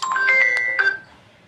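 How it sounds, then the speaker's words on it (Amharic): A phone rings with a bright electronic melody of repeating tones, close and clear, fading out after about a second. "ስልክሽ እየጠራ ነው ግን።"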